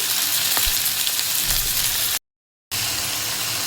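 Taro-type vegetable frying in a pan, a loud, dense, steady hiss of oil up close with a few soft knocks, cut by a brief gap of silence partway through.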